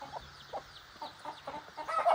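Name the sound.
chickens clucking in a backyard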